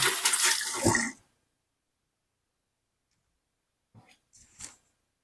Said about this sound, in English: Quick wash and dry the hands.